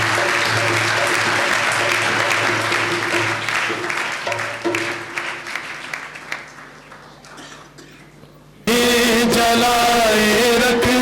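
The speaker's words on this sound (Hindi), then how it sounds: "भरपूर तालियां बजाकर आप अपनी खुशी का इजहार कर सकते हैं।" Applause from a church congregation fills the space, loud and continuous, then gradually thins out and fades, before amplified music or singing cuts in abruptly near the end.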